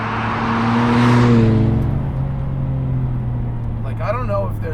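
A Nissan R33 GTR engine hums at a steady low pitch while driving, swelling slightly as it passes, with a voice talking over it near the end.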